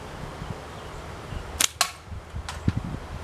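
Two slingshot shots using thin Theraband blue bands and steel ammo, each a sharp snap with a quick impact slap, close and distinct, followed by softer knocks.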